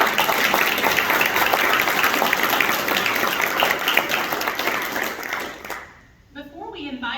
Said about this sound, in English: So if you'll help me give them a round of applause for all the support